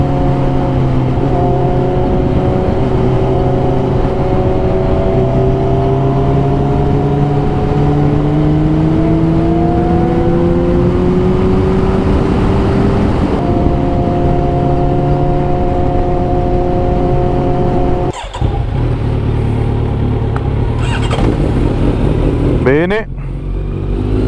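Four-cylinder car engine driving through a tight left bend, a steady loud drone whose pitch climbs gradually, shifts around mid-run, then dips abruptly and picks back up near the end like a gear change.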